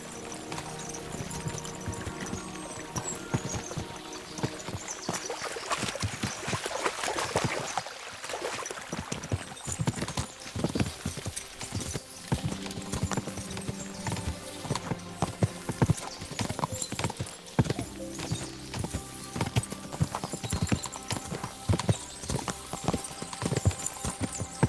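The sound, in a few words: horses galloping, from video game Kingdom Come: Deliverance II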